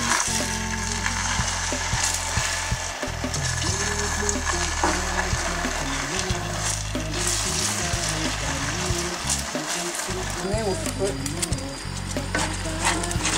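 Warm coconut cream is poured a little at a time into melted sugar caramel, which bubbles and sizzles loudly and steadily while the mixture is stirred.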